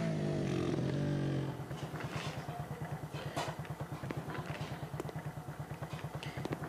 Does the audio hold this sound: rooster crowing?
no